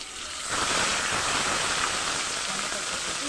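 Ground spice paste dropped into hot oil with fish in a pan, a loud steady sizzle swelling after about half a second and holding strong to the end.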